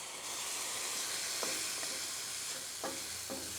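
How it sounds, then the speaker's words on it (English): Fried rice sizzles steadily in a hot pan as soy sauce goes in, a continuous bright frying hiss with a few soft scraping stirs near the end. "And then we're going to add some soy sauce."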